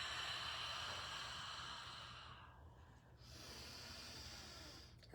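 A long, steady nasal exhale during a seated chair yoga breathing exercise, a soft even hiss of breath that fades toward the end.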